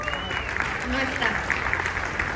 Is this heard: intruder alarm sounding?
no